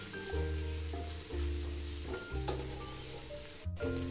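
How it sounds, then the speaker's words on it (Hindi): Onions sizzle steadily in a hot pan while cooking for an aloo karela (potato and bitter gourd) dish, a continuous close frying hiss with a few soft stirring shifts and no voices. "अब इसमें हम प्याज ऐड कर देंगे, प्याज को हम करेंगे फ्राई।"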